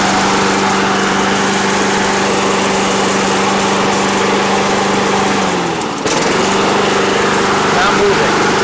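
Honda HRX217 lawn mower engine running steadily with a continuous droning buzz, close and loud, dipping briefly near the end before resuming; the self-propel drive is set to speed 3 but not engaging.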